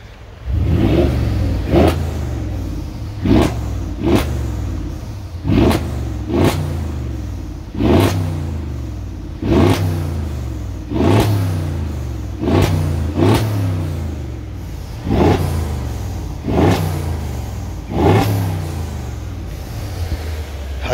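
Repeated throttle blips on a 2017 Mercedes GLE 63 with 65k km, each rev climbing to around 3,000–3,500 RPM and dropping back, about a dozen sharp surges in steady rhythm over a loud idling engine, with no talking.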